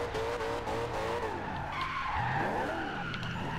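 In Forza Horizon 2, a Corvette ZR1 skids sideways while drifting on non-race tires. The tire squeal is loud and sustained, with bending, sliding pitch over a constant engine roar.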